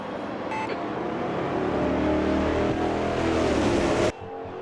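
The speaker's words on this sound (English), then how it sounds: "Sound of thunder of the old Chevrolet Montana pickup." An old Chevrolet Montana pickup race truck in the racing game Automobilista 2 drones with a loud, steady engine roar at high revs for about four seconds, then cuts off abruptly, with a short beep near the start.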